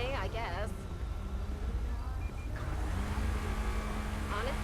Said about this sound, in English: it's that sports car there revving its engine